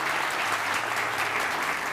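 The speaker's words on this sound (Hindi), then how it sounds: "और आप लोग जरा तालियां बजाइएगा।" A studio audience on a Pakistani TV morning show breaks into brief, steady clapping, a dense even patter of many hands close by, with no talking over it.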